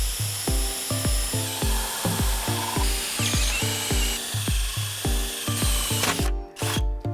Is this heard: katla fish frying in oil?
no